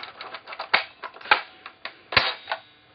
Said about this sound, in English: you find the cocking handle of the bolt and just pull it back, and you can hear that click